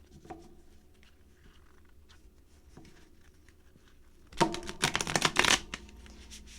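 A deck of cards is shuffled close by in one quick riffle of dense rapid flutters, after a few soft handling taps.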